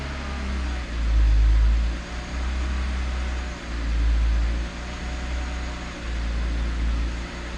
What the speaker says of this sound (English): You can see we have a little bit of a bouncy idle at first.